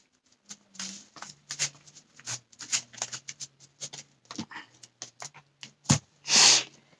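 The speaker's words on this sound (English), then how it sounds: "And let's just shuffle it up." Cardfight Vanguard trading cards being shuffled by hand up close: a quick series of crisp, papery riffles and taps in irregular bursts, ending with a louder brush of cards, no talking.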